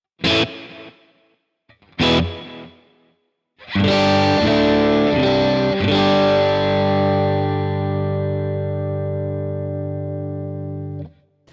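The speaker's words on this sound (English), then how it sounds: "If I turn the delay up, you can just hear it." Distorted electric guitar through a Neural DSP Quad Cortex: two short muted stabs, then strummed chords that ring out and sustain, with a faint delayed repeat trailing behind, loud and close.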